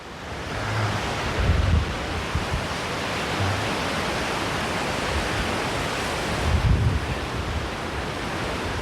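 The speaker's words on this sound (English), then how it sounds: "It is very windy." Strong storm wind gusting over a microphone at the coast at Fort DeSoto, Florida, with winds near 70 mph, making a steady loud roar and rumble that swells into heavier gusts throughout.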